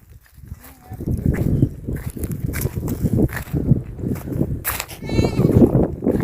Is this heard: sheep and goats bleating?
yes